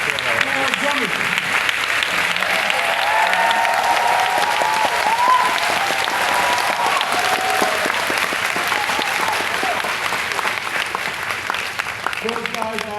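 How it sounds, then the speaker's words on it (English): Sustained, dense applause from a large concert audience for a band of two keyboardists, bass, guitar and drums, with a steady wash of clapping throughout and a faint tonal murmur in the middle. "So please give a round of applause to our band."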